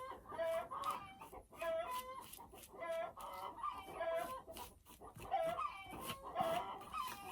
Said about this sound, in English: Now there goes those chickens again.